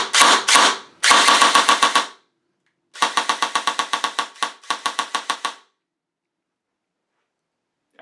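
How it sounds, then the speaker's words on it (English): A G&G VFC VR16 airsoft rifle with an electronic trigger unit fires on semi-auto in fast clusters of sharp, close snapping shots, with pauses between bursts and silence at the end. "First, let's do a quick trigger response test on semi-auto."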